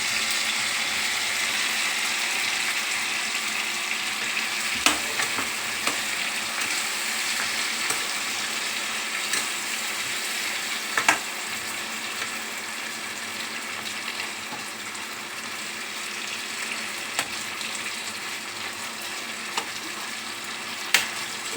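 Boiled potato sizzles steadily in hot oil in a pan, a continuous frying hiss with occasional light clicks from stirring, fairly close and without talk.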